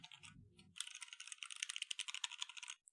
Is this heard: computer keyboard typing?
yes